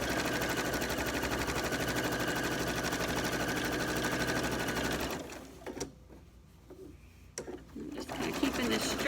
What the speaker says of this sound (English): Just going to top stitch right along that edge.